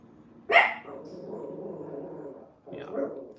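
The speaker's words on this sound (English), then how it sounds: "He barks at every little thing." A dog barks once loudly and close, followed by a lower growling or howling sound, then a shorter bark or whine near the end.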